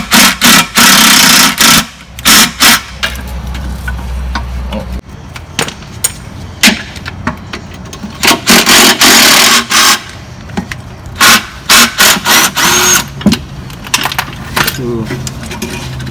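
Screws being removed from the engine mount plate of a 2008 Chevy Uplander, heard as sharp clicks, ratcheting bursts and metallic clinks in quick irregular clusters, close and loud, with brief pauses in between.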